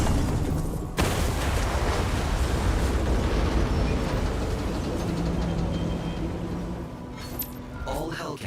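Hell cannons explode in the video game DOOM: The Dark Ages, a sudden loud boom followed by a sustained heavy rumbling roar that slowly fades, with a voice talking over it.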